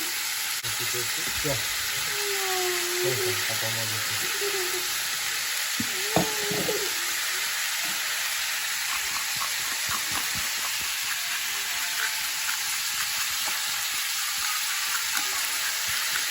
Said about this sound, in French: Tourner rapidement parce qu'elles vont cuire vraiment vite les crevettes.